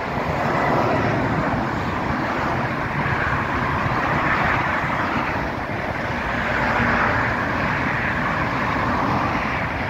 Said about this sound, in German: Ah, Schwertransport, schaut mal.